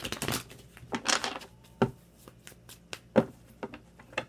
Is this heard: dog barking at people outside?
no